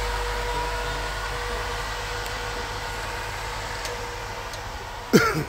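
A fan drones steadily with a low, continuous hum and whir, unchanging throughout, until a brief sharp noise near the end.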